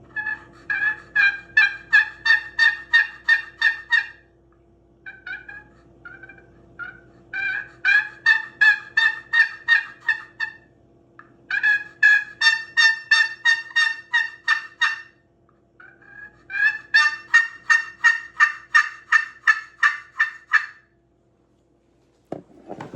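A friction turkey call, played by rubbing, imitates a turkey with repeated runs of rapid yelping clucks in three bursts separated by short pauses, loud and close with no talk.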